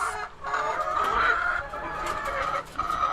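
Backyard pet chickens cluck steadily and close by, a dense overlapping chorus of hens with a faint crow-like call mixed in, no talking.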